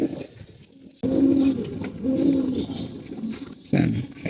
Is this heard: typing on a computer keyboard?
no